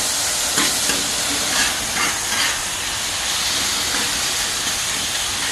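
Beef heart sizzling on a Blackstone griddle, a steady, loud broadband hiss with faint scraping as the meat is spread around, no talking.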